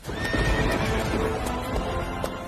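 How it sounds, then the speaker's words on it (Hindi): A horse arrives with clip-clopping hooves and a whinnying neigh, the hoofbeats steady and close with the neigh rising over them. "घोड़े पर सवार होकर चौखट तक पहुंच गए।"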